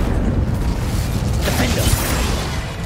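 Incendio fire spell cast in Hogwarts Legacy, a loud roaring whoosh with a brighter burst midway over dense low rumble, lasting a few seconds.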